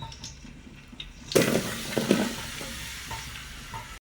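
Onions and chicken curry hit hot oil in a pan, breaking into a loud, close sizzle with stirring scrapes that carries on steadily, with a quieter kitchen background before it.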